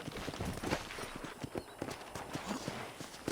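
Horse hooves in Red Dead Redemption clip-clop in a steady walking rhythm, close and fairly clear, with a few irregular knocks and no talking.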